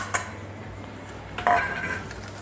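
Sugar and cornstarch mixed in a bowl for a fruit tart filling, a couple of faint clinks of a utensil against the bowl, a sharp tap followed by a brief rattling scrape, quiet and close.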